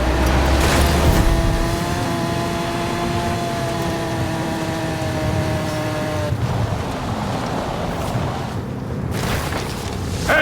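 A Hoonigan RS200 rally car races head-to-head in a video game, its engine revving loud and steady with rising pitch through gear changes, then a shift and continued roar near the end.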